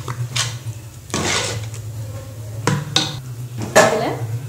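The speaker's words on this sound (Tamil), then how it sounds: "அதுலேயும் கொஞ்சம் கரண்டி வச்சு இப்படி நல்லா மசித்தோன்னா மசிஞ்சிரும் நல்லா கொல கொலன்னு" A ladle mashes cooked rice for sweet pongal inside a metal pressure cooker, making a few scattered clanks and scrapes of metal on metal against quiet kitchen background.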